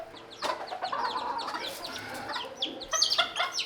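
A mother hen on a farm clucks agitatedly while protecting her chick, giving close, loud bursts of rapid clucks and sharp squawks in an irregular stream.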